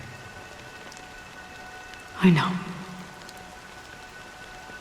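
Rain falls steadily as a soft, even patter in the video game Honkai Star Rail, with a short burst of a louder sound about halfway through and a brief spoken line.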